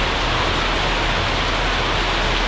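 Light rain falling outdoors in Cambodia, a dense, even hiss of drops that stays loud and constant throughout, with no voices.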